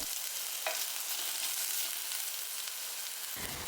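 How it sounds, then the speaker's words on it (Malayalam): Peperomia leaves and green chillies being sautéed in a pan, giving a steady, soft frying sizzle with light stirring throughout, with no voices. "അതും കൂടെ ചേർത്ത് നമുക്കിതൊന്ന് വഴറ്റി കൊടുക്കാം"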